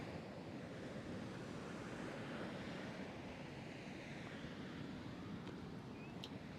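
Ocean waves wash steadily onto a beach shore, a continuous broadband roar of surf mixed with wind noise on the microphone, sustained throughout with no distinct breaks.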